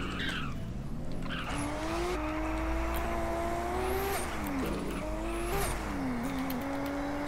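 Racing video game car accelerating hard with rising and falling engine tones and long tire squeals through turns, loud and continuous.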